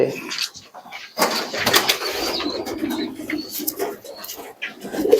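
Pigeons cooing in a loft or coop, repeated soft throaty coos mixed with wing flutters and shuffling, close by and irregular throughout.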